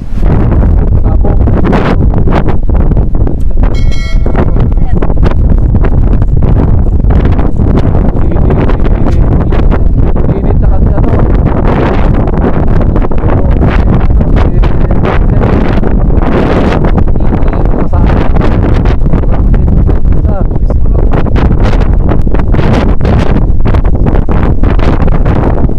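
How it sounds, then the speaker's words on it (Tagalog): Strong wind buffets the microphone in a constant heavy roar, gusting and rumbling for a long stretch with no pause. "Lakas ng hangin"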